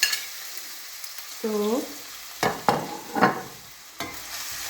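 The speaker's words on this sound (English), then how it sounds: "This is just onions and green peppers. So I'm just going to add them here. Our oil is already hot." Onions and green peppers frying in hot oil give a steady sizzle, with louder bursts of stirring and scraping close by, while a voice speaks briefly.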